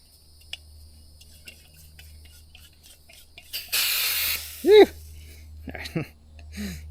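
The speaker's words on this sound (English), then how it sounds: "Watch the spray that comes out of this thing." A brief burst of hissing spray from an overpressurized, corroded oil can outdoors on an overnight kayak trip, followed by someone speaking.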